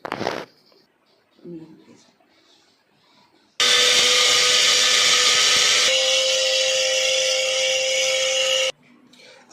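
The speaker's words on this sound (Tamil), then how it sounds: "ஸோ இதை வந்து நம்ம ஜாரில் போட்டு அரைச்சிக்கிறோம்" A mixer grinder jar grinds mustard seeds, dried red chillies and fenugreek for homemade amla pickle, a loud steady whirring roar that runs for about five seconds and shifts pitch partway through, with quiet kitchen sounds before and after.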